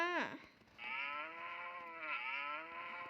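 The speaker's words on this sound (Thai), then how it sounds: "วัวเขาต้องตามมา" A cow in the video game Sakura School Simulator gives a long, loud moo that dips, then rises into a sustained, bellowing call filling the whole clip, with no talk over it.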